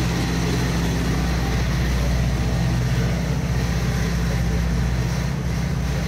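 Steady low drone of a boat's two diesel engines below deck fills the space, a constant deep rumble with mechanical hum and no breaks, close and loud.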